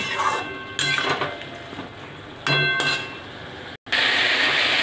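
Vegetables being stirred and sautéed in a pan with ground cumin-ginger paste: a steady frying sizzle broken by several sharp metal clanks of a spatula against the pan, then a brief cut and a louder hiss.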